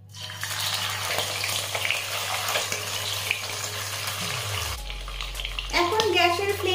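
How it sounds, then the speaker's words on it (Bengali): Katla fish frying in mustard oil in a pan, a steady broadband sizzle with a low hum running underneath and some faint clatter toward the end. "এখন এতে আমি মাছগুলো ভেজে নেব।"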